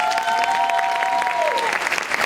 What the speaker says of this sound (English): if you would hold your applause until the end